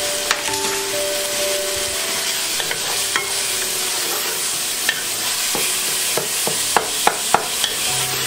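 Spinach being stirred in a cooking pot for Afghan sabzi palak, with scattered scraping and knocking of a utensil over a steady sizzling hiss, close and fairly loud.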